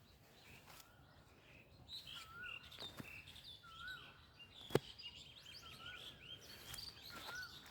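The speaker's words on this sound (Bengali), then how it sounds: "এই ছোট পাখি পাখি ছোট পাখি।" Small birds give repeated faint, high chirps and tweets at a riverbank, spread across the stretch against quiet outdoor ambience, with one sharp knock midway.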